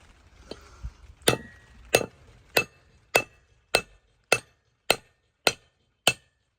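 Hammer tapping an extended wheel stud into a Honda Civic hub, nine or ten sharp metallic strikes at an even pace, close and clear, after a few softer knocks at the start.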